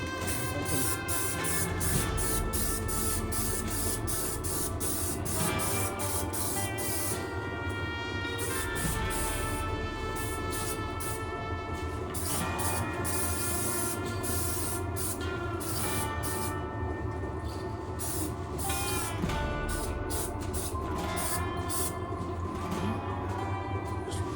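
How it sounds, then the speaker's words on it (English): An aerosol can sprays in a long series of hissing bursts, each separated by brief pauses, close and fairly loud. "So we'll give it a spray."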